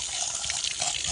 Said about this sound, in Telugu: ఇక్కడ వస్తున్నాయి వాటర్.